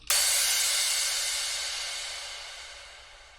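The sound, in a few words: crash cymbal sample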